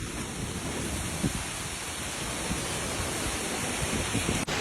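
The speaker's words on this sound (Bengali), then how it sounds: "গাইস তোমরা দেখো কি পরিমাণে হাওয়া উঠতেছে" Strong storm wind roars in a broad, steady rush of noise that stays loud and unbroken throughout, with faint thumps and rattles underneath.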